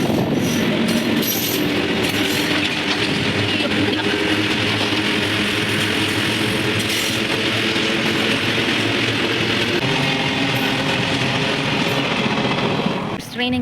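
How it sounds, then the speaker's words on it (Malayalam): A long goods train rolls past close by, a continuous loud rumble with rhythmic wheel clatter and occasional metallic squeal, sustained for the whole stretch. "പക്ഷേ ഗുഡ്സ് ട്രെയിനാണ് വന്നത്, നമ്മുടെ ആളുകൾ പോകുന്ന ട്രെയിനല്ല വന്നത്."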